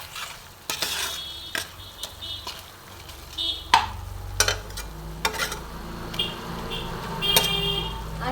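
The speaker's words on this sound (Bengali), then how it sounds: "সেই লবণ চিনিটা ভালো মতন আমি সব একসাথে মিশিয়ে নেব" Salt and sugar being stirred into achari paneer in a pan, with spoon scrapes and clinks against the metal over a soft background sizzle of oil, the knocks irregular and close.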